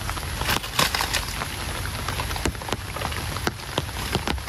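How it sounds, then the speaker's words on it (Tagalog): Rain falls steadily on a farm, a continuous hiss with scattered sharper drops and taps on nearby surfaces. It stays even throughout, with no voices. "maghapon pong umuulan dito"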